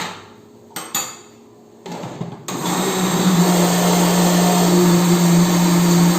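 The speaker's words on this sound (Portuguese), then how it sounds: "Veja se tem ingrediente que não misturou ao lado do liquidificador e ligue novamente." After a few clinks and short knocks, a kitchen blender mixing recipe ingredients switches back on and settles into a loud, steady whirring drone that continues to the end.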